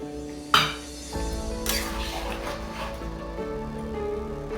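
A metal lid set onto a cooking pot of chicken and kohlrabi, one sharp clanking clink followed by a lingering ring, then a second softer rattle over a low steady background hum.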